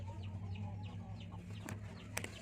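Nine chicks chirp in quick, high peeps over a steady low hum, with a couple of sharper clicks near the end.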